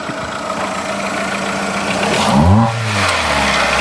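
A SEAT Ibiza engine fitted with a cheap Temu ram-air intake idles steadily, then revs sharply in a rising and falling sweep before settling back to a throaty idle, close and loud.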